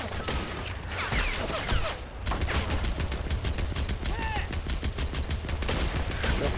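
Rapid bursts of gunfire and machine-gun fusillades fill a battle in the World War II strategy game Men of War: Assault Squad, steady and loud throughout, with a person speaking over the shooting.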